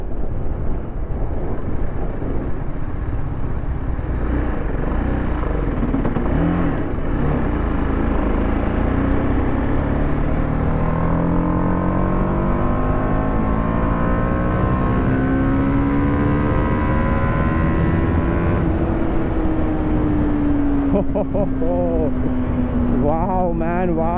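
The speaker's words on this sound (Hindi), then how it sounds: "इसका एग्जॉस्ट भी इतना सही लग रहा है ना, मतलब फुल बेसी आवाज आ रहा है इसमें।" A TVS Apache RR310 BS6 motorcycle engine rumbles with a deep, bassy exhaust tone, rising and falling in pitch as it revs, with someone talking over it throughout.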